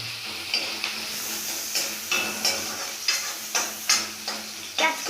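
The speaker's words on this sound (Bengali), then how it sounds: "পেঁয়াজ কুচিটা ভালো করে নেড়ে চিড়ে নিতে হবে" Chopped onions sizzle in a hot pan for pasta while being stirred, a soft steady frying hiss broken by repeated spoon scrapes and taps against the pan at close range.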